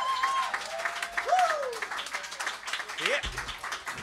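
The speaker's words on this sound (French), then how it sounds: "On applaudit Francisco Rendez" Applause from an audience welcoming a performer at a music jam show, a soft continuous patter of clapping heard under overlapping talk and cheers.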